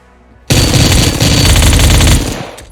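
MP7 submachine gun in Badlanders firing a sustained, loud burst of rapid automatic shots for about a second and a half, starting abruptly and cutting off cleanly.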